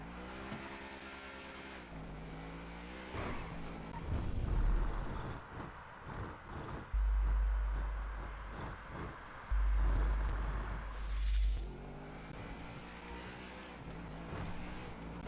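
Car driving in the GTA V video game, with engine drone, gear-shift steps and bursts of heavy low rumble and revving, fairly loud throughout with no talk.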